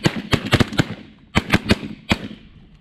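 Shotguns fire at a flock of circling mallards during a duck hunt, loud sharp blasts in quick ragged bursts: a cluster of five, a pause, then three more and a final shot.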